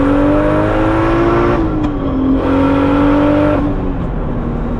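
A built turbo BMW E36 engine wails on a dyno pull, its pitch rising steadily in two long climbs, each ending in a brief drop, loud and close with no talking.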